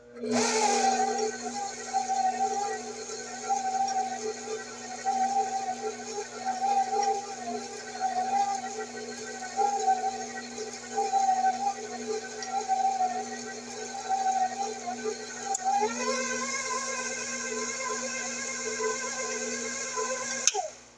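A stand mixer runs on its lowest speed, first gear, mixing sugar into cream cheese pecan pound cake batter, a steady close motor whir with a faint rhythmic beat, shifting pitch near the end, with no talk over it.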